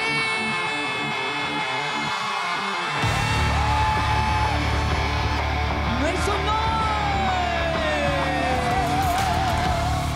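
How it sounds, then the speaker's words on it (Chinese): A concert audience at a New Year music show screams and cheers, a dense continuous roar that swells in loudly after about three seconds and holds steady to the end. "尖叫声在哪里？"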